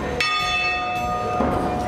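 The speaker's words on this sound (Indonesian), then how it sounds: "dan bunyi-bunyi lonceng" Bells ringing at a Chinese temple in Malang during an Imlek ritual, two bright metallic strikes with long ringing tails that overlap and linger, fairly close and clear.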